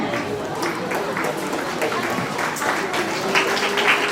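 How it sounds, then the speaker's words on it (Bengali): Audience applause at a scholarship day event in the Sundarbans, a steady dense patter of many hands that stays fairly even and tapers only slightly, with voices murmuring underneath. "হাততালি আস্তে আস্তে কমে যাচ্ছে।"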